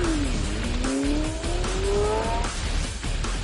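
A fast car's tires squeal hard and smoke, a long rising screech riding over a roaring engine, loud and close, with rock music and no talk.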